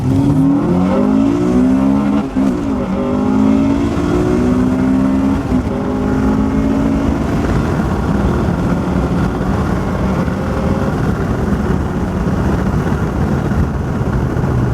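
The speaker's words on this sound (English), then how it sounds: "we're gonna try to do a pull in like second gear so you can hear the VTEC kick on" A loud Honda B20 VTEC engine revs hard in a second-gear pull, climbing steadily in pitch as VTEC engages, droning continuously with no speech over it.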